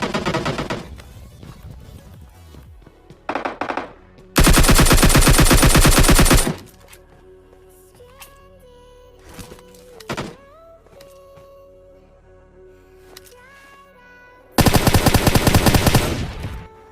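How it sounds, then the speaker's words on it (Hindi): Loud bursts of automatic gunfire in a PUBG Mobile Lite fight, two long sustained volleys and a few short shots, set against quieter game effects and music with no talk. "अब तुम बस फाइट के गन साउंड सुनना"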